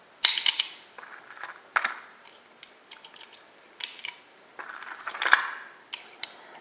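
22 TCM cartridges are pressed one by one into a pistol magazine for an RIA MAPP1 CZ-style pistol, giving sharp metallic clicks and snaps in irregular bursts, close and fairly quiet.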